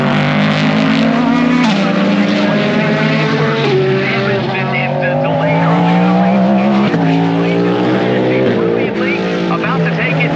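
GTD Pro race cars at Laguna Seca roar up the hill toward the Corkscrew, engines loud and close with rising and falling pitch as they shift, under continuous race commentary.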